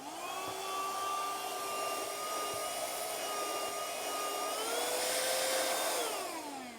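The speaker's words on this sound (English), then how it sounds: "The vacuum power seems to be substantial compared to other stuff that I've looked at." An Ionvac PowerMax vacuum cleaner runs continuously with a loud, steady whine whose pitch shifts slightly as it moves.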